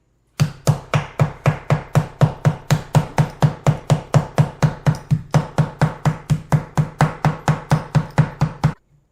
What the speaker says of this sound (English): once you're done tenderizing your meat